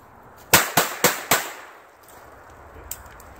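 Four quick, loud pistol shots fired in a fast rhythm during a shooting drill, each followed by a short echo, then a faint metallic click.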